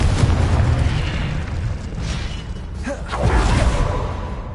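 A Confringo explosion spell from Hogwarts Legacy bursts loud and close, a rumbling roar with whooshing swells that dips briefly and then surges again.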